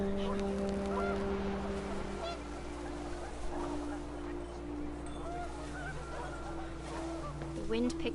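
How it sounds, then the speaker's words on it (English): Panicked geese honk in What Remains of Edith Finch, scattered calls heard faintly over a low steady ambient hum, with a few rapid honks bunched near the end. "The wind picked up and panicked geese appeared and quickly went."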